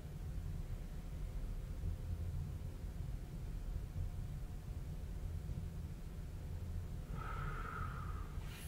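A person breathing in and exhaling slowly during a low-intensity breathing exercise, heard as a long, steady, close airy breath under background hiss, ending in a sharper exhale.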